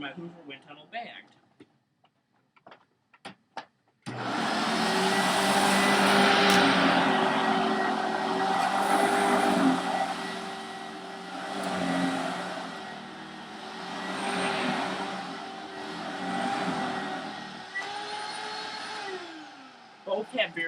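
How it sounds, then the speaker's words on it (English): After a few quiet clicks, a 2005-series Hoover Windtunnel Bagged vacuum cleaner starts up and runs with a steady droning motor hum and rushing air, wavering in loudness, then spins down with brief clatter at the end. "Now, for my Hoover Windtunnel Bagged."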